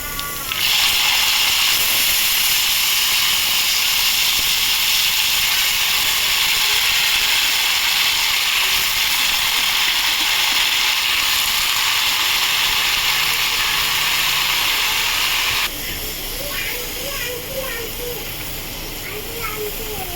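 Soaked, cut bottle gourd hits a hot pan for a Bengali gourd-and-prawn dish, giving a loud, steady broadband sizzle that holds for about fifteen seconds before easing to a quieter crackle with faint stirring noises.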